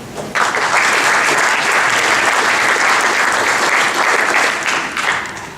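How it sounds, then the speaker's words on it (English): Conference audience at a Mobile Monday Silicon Valley talk applauds a researcher coming up to present, a dense, steady burst of many hands clapping that starts sharply and holds for several seconds before tapering slightly. "Let's give a round of applause."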